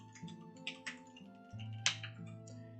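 Keys clack on a computer keyboard in a handful of separate taps, close and fairly quiet, over a steady low electrical hum with no talking.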